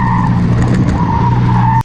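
A single-seater car built around a BMW 475 motorcycle engine with electronic injection, tested on a seaside road in Dakar, roars past loudly with a strained, rising engine note and tire noise, close and continuous before cutting off sharply.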